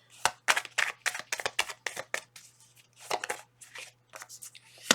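Tarot cards are shuffled in quick, crisp riffling bursts, about a dozen short rustles in uneven rhythm, close and fairly quiet over a faint steady hum.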